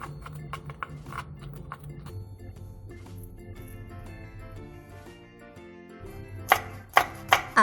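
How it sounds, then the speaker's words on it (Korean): A knife minces chili peppers, scallions, ham, crab sticks, pickled radish and burdock on a cutting board in rapid taps, with a few sharper chops near the end over soft background music. "앞에서 쓰고 남았던 청양고추, 홍고추, 쪽파, 햄, 게맛살, 단무지, 우엉을 다져주세요."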